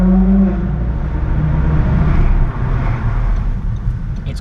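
Ferrari LaFerrari Aperta driving on a public road, its engine a loud, steady low roar close by that swells slightly mid-way and eases off toward the end, with no talking.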